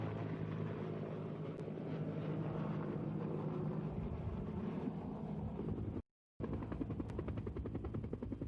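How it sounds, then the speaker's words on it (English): A U.S. Air Force C-130 cargo plane flies over hurricane-damaged Jamaica, giving a steady, loud, droning propeller roar from inside the aircraft that continues throughout with a momentary cut. "Prime Minister Seaga got his bird's-eye view aboard a U.S. Air Force C-130 cargo plane"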